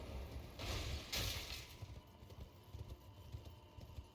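Muffled hoofbeats from a ridden horse in Elden Ring, a steady clip-clop rhythm over ambient wind-like noise, moderately quiet.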